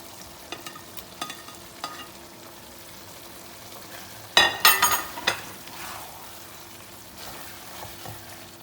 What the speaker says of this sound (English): now we are putting the potato and the brinjal